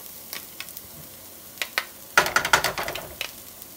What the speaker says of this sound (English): we're gonna let this saute together for just a bit